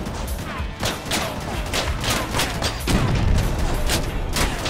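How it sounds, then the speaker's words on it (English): Rapid bursts of heavy auto cannon fire in Crossout, repeated cannon-like shots and booms over a dense, noisy battle backdrop. "He has auto cannons."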